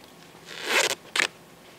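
Adhesive tape rips off the roll twice in short, sharp bursts as it is wrapped around a rope tail while lashing timbers for an A-frame, close and fairly quiet.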